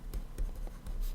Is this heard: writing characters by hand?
yes